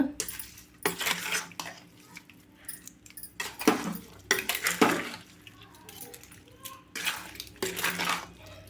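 Amla pickle pieces are mixed with oil in a bowl, giving irregular wet squelching stirs and clinks of a utensil against the container in short bursts, close and moderately quiet.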